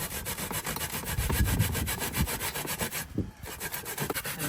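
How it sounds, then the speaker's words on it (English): Coconut is grated by hand the old-time way on a sharp grater, giving close, steady rhythmic rasping strokes in quick repetition, with a brief pause partway through and no talking. "So I'm going to grate the coconut, and this is the old-time way."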